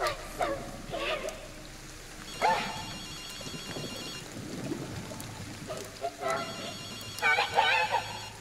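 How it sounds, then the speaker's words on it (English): In the game Ghostwire: Tokyo, a telephone rings in repeated trilling bursts, with a second cluster of rings later, heard moderately close while people talk over and between the rings. "I'm also scared of when the phone rings."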